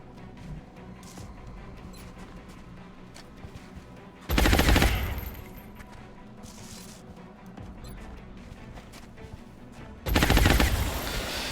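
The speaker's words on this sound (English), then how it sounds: "Taking heavy fire!" Bursts of heavy gunfire from a turn-based tactical strategy game with the Long War mod, two loud sustained volleys a few seconds apart over a steady bed of background game sound and music.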